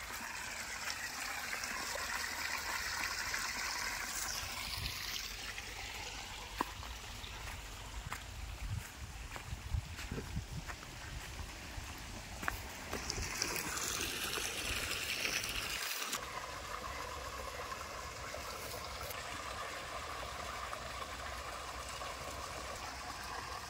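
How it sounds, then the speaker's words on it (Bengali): Water from a deep tube well pours steadily out of a pipe into a village pond, a continuous loud gushing rush that stays even from start to finish with no talking. "এখানে ডিপ চলছে, এখান থেকে আমরা জলটা ভরে নিচ্ছি।"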